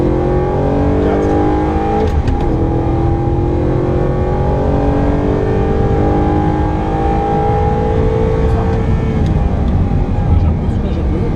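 Audi R8 engine roaring at full throttle from inside the cabin, a loud continuous engine note rising and shifting through gears for the whole stretch, with faint talk underneath.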